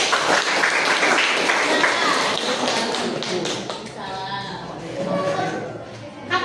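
Students in a classroom guidance session applaud a presenting group with a dense, steady patter of clapping and tapping that fills the room, thinning toward the end as a voice speaks over it.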